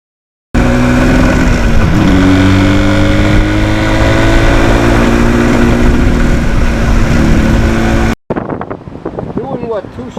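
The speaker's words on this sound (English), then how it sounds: "I always enjoy going through the gears on the RD" A Yamaha RD400 two-stroke motorcycle pulls through its gears with a loud, rising engine drone and steady wind rush, then briefly cuts out before returning rougher and choppier near the end.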